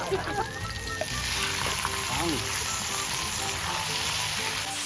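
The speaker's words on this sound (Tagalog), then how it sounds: "Maglalagay lang tayo ng kaunting mantika at magigisa." Squid sizzling in hot oil with garlic and onion, a steady close frying hiss with faint stirring scrapes running throughout, no voices.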